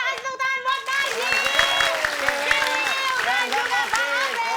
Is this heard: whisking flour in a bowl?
no